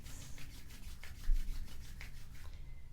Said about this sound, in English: And now let's rub the palms together, create some heat.